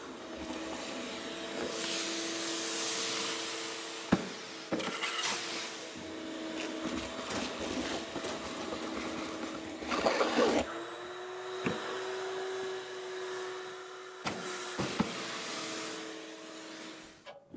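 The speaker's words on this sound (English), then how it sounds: "I'll grab a vacuum and just suck all that out." A shop vacuum sucks wet insulation debris out of a forgotten hot pressure washer. Its motor drone runs steadily throughout, with several brief louder surges and clunks as the nozzle moves around.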